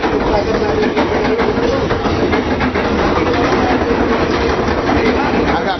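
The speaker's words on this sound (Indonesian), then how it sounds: "Kalau kereta lewat agak kenceng." A train rushes along a railway line right beside a church, a loud continuous rumble with rhythmic clattering wheels that fills the whole stretch, close and steady, with voices faintly underneath.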